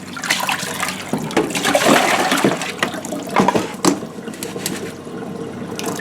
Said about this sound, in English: And got my potatoes here washing.